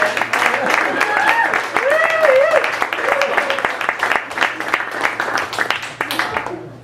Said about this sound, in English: One more round of applause for Catherine.